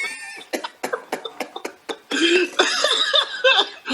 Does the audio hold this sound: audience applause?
no